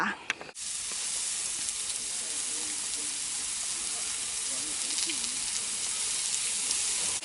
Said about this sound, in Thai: อันนี้เอาถ่านลงรอบที่สองแล้วนะคะก็คือ กระทะก็ปะทุขึ้นมาอีกค่ะ